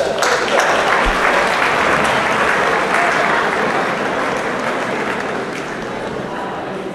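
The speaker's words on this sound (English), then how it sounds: "Round of applause for Miss." A high school audience in a hall bursts into loud, sustained applause that fades slightly toward the end.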